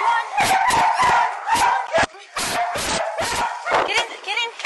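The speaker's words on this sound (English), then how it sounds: "That's the dog." Several sharp dog barks in quick succession, close and loud, with people talking over them during a rush to load shelter animals into a car while evacuating from a California wildfire.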